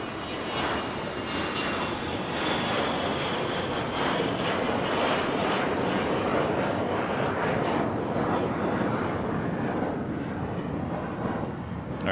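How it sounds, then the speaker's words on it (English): Airbus A380 jet airliner at LAX, a steady loud engine roar with a slowly falling whine, close and continuous throughout with no talk. "We do have the A380 pushing it back from the gates."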